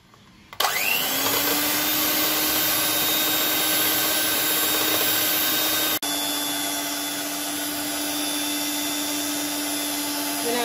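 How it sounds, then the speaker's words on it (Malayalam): An electric beater whips a hot marshmallow mixture at medium speed, starting with a click and then whirring as a steady, loud motor drone that holds for about ten seconds. "ഞാനത് ആ ചൂടോടുകൂടി തന്നെ മീഡിയം സ്പീഡിലിട്ട് ഒന്ന് ബീറ്റ് ചെയ്യുകയാണിത്."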